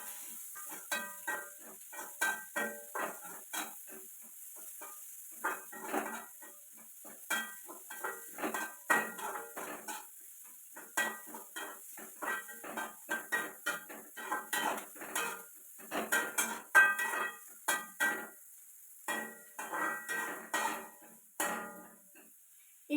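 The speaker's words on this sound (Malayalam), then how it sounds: "ഇനി നമുക്ക് അരിഞ്ഞു വെച്ചിരിക്കുന്ന പച്ചക്കറികളൊക്കെ ഇട്ടു കൊടുക്കാം." Chopped vegetables go into a pan for upma and are stirred, with repeated scraping and clinking of a spoon against metal, irregular and fairly close, over a faint sizzle and no talking.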